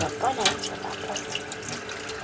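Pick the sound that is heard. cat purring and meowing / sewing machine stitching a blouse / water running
water running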